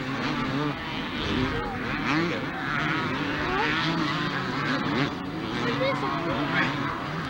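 Racing motorcycles, including a Yamaha, at a Palmdale race track, with engines droning continuously in a dense, rough wash of revving that rises and falls as bikes pass, while a commentator talks over it throughout.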